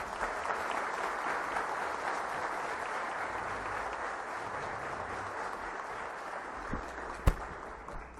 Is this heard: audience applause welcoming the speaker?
yes